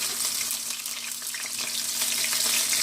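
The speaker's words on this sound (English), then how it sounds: "get this shrimp in, and make sure that I don't get popped with this hot oil" Wet shrimp frying in hot oil for citrus grapefruit shrimp, a dense, loud, continuous crackling sizzle heard close up with no talking.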